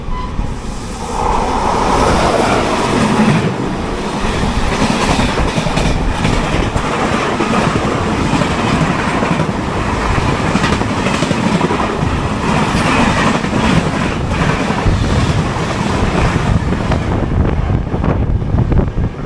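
A train rushes past at high speed close by, a loud continuous roar with rattling wheels and strong wind buffeting throughout, heard from aboard an express train.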